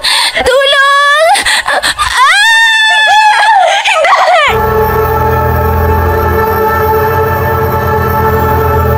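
A person screams loudly in two long, wavering cries, followed by a steady, blaring siren-like wail that fills the rest of the clip.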